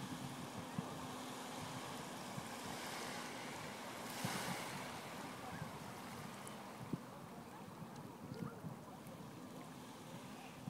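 Faint ocean waves wash onto a sandy beach in a soft continuous rush, with light wind noise and a gentle swell midway, quiet and distant.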